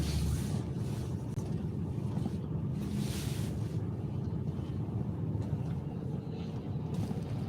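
Wind roaring steadily across an outdoor microphone on a cold day in Gatlinburg, a constant loud rumble with gusty swells and no break.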